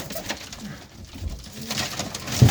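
Punjabi Malwai pigeons kept in England coo softly in a few low, rounded calls close by, with faint background noise between them.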